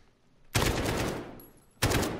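Rapid automatic gunfire bursts out loudly in the Warzone video game, a dense sustained volley that tapers off before a second sharp burst starts, heard close with no talking.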